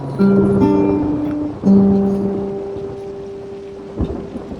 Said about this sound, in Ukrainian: зараз просто паде ливень. сильний дощ, ливень, коротше. Гримить блискає